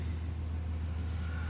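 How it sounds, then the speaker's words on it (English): A big truck's engine rumbles right alongside on the road, a steady, loud, low drone close by that fills the whole short stretch. "Big truck right next to me."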